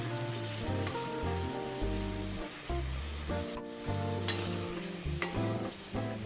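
Samosas deep fry in hot oil with a continuous bubbling hiss, heard over a steady tonal background that sounds like music.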